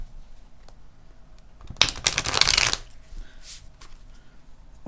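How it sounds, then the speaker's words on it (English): Tarot cards are shuffled in one dense, crisp riffle lasting about a second, close and clear over a quiet room. "One more shuffle and we'll be ready to go."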